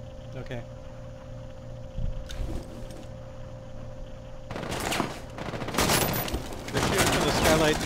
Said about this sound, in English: They're shooting from the skylight through this barricade right now.